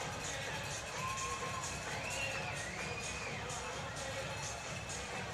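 Large crowd at a Port Huron Prowlers versus Rockers hockey game cheering and shouting steadily, with a whistle-like tone sweeping above the roar.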